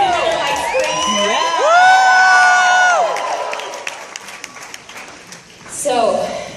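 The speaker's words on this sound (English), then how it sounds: "Can I just get another like scream?" A live audience at an on-stage event screams, whoops and cheers, swelling into a loud sustained roar with sharp peaks before fading, then a brief fresh burst of shouting near the end.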